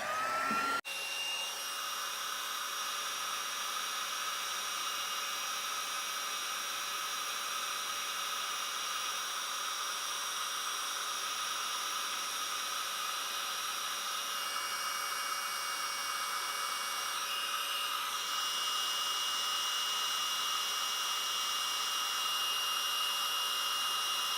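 A heat embossing tool blows over card with a loud, steady fan roar and hiss, running without a break after a brief click at the start.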